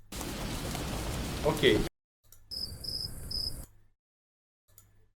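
An AI-generated ambient preset plays a steady wash of rain with chirping crickets, then cuts off; after a short gap a softer cricket layer returns with repeated chirps, and a person speaks a brief word.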